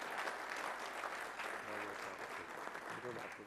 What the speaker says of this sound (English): a big round of applause to this team which has put together the Acreconf India 2012